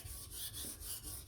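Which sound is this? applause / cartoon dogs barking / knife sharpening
knife sharpening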